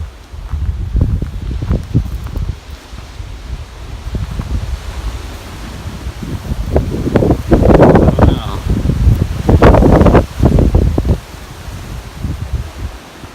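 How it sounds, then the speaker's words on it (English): Strong wind roars and buffets the microphone in heavy low gusts on a hill among trees, swelling louder midway, with leaves rustling underneath. "Gosh, it's so windy"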